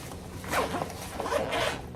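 The zipper on a handbag compartment is pulled open in a couple of quick, raspy strokes, close and clear, with no talk over it.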